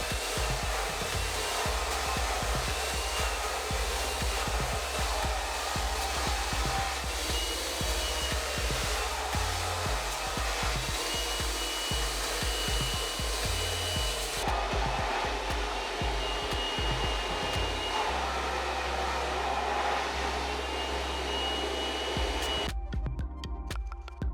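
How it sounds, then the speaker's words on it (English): A blow dryer drying coarse hair roars steadily and loudly throughout, its pitch shifting slightly as it moves, then cuts off abruptly near the end. "So the last section you want to blow dry forward"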